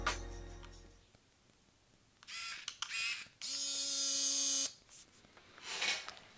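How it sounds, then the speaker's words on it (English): A Fuji Tiara II compact film camera fires its shutter with a small click, then its motor whines steadily while winding the film for about a second, followed by further short mechanical buzzes, all close and fairly quiet. "You'll hear the mechanical whine of the film in this camera."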